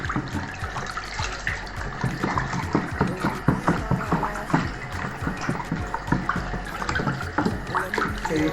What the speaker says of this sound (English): Okay, so you just keep stirring.